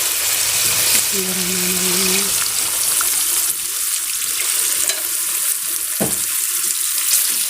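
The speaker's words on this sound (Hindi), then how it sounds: "अब इसमें पानी लगा देती हूँ।" Water poured into a pan of frying potato and eggplant curry, with a steady sizzle throughout, a brief tonal hum early on and a soft splash or thud near the end; no talking over it.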